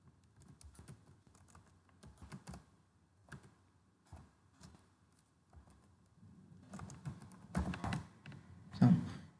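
Typing on a computer keyboard while entering a network command, with irregular bursts of keystrokes that grow denser and louder toward the end, close and alone.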